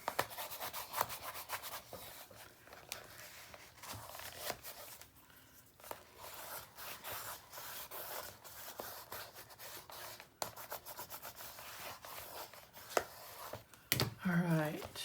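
Burnishing tool rubbing paper onto a scrapbook album page, Stamperia Romance Forever mini album: close, continuous dry scraping and rubbing strokes that go on steadily, ending with a few sharper rustles.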